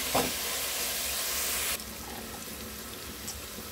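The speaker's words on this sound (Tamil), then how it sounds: "நான் இப்போ இதில் 1 teaspoon போல் உப்பு போட்டு வதக்கிட்டுருக்கேன்." Sliced onions sauté with a teaspoon of salt in a pan, a bright, steady sizzle that is loud at first and then drops to a softer fry with faint stirring, close by and with no voices.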